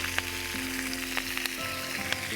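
A Murray cod fillet, just turned over, fries in a pan with a loud, continuous close sizzle and occasional pops above a low steady hum.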